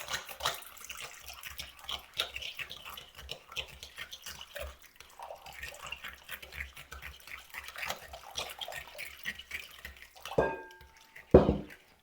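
Warm water trickles onto dry yeast and sugar for Italian pizza dough and is stirred in. Soft dripping and splashing run throughout, with a few louder clinks near the end.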